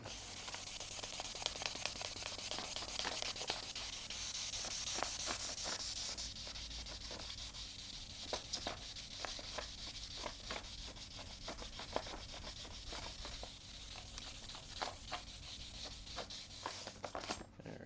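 Fine 2000-grit abrasive rubbed along a rusty sword blade makes a steady, close, hissing scrape with repeated strokes. The strokes run continuously and no one speaks.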